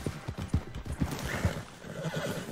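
Horse hooves clip-clop steadily over bumpy ground in Red Dead Redemption 2 while the exhausted horse, its stamina at zero, neighs and whinnies, all close and clear with no talk.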